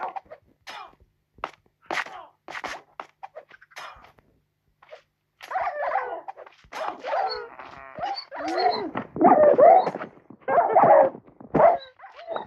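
Several Minecraft dogs barking, yelping and whimpering in short bursts, sparse at first and then louder and busier, with no talking.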